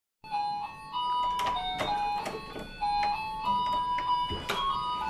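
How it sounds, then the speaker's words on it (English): An electronic doorbell chime plays a repeating melodic sequence of clear tones at a pet grooming visit, moderately loud with brief clattering sounds between notes. "Then you see the doorbell, that's why making noise."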